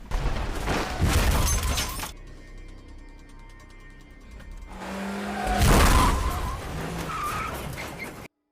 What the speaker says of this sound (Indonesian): Mereka pun merayakan kembalinya Wei dengan cara mengadu mobil.